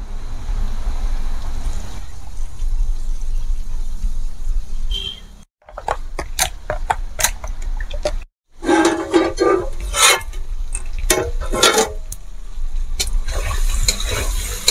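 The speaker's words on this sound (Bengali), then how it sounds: "এবার এর মধ্যে জল দিয়ে দেব।" Water added to finely ground coconut paste in a pan while cooking coconut chicken curry, giving a steady hiss and sizzle with scattered sharp clicks of stirring and two brief silent gaps.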